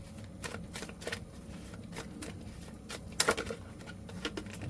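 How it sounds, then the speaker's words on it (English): Tarot cards being shuffled close up, a series of quick riffling bursts and flicks with brief pauses between them. "These cards want a good shuffle."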